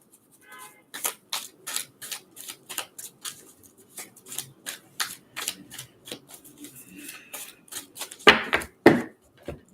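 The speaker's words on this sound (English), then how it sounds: "Give it a good shuffle this time." Oracle cards shuffled by hand, giving a steady run of soft, crisp riffling snaps at close range, ending with two sharper, louder slaps.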